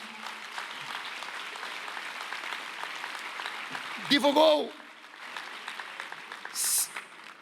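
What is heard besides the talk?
crowd applause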